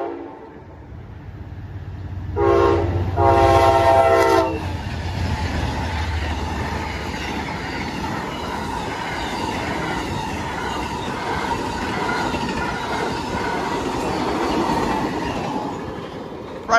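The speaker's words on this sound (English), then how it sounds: "we got an Amtrak train coming down the line" An Amtrak passenger train rumbles past close by at a rural road crossing, its horn blaring loudly for a couple of seconds before the steady clatter of wheels on rails carries on.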